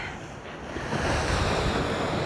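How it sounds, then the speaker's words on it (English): Surf crashes and washes against rocks beside a fishing jetty, a steady broadband roar that swells louder partway through, with wind buffeting the microphone and no voices. "we've got rocks with the waves crashing in"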